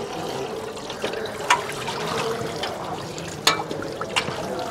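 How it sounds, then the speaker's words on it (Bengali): A plate is rinsed under running water at a washing area in the dining hall of the Kumbh Mela at Prayagraj, a steady close splashing stream with a couple of sharper clatters of the plate. "থালা নিয়ে পুরো ধুয়ে নিতে হবে"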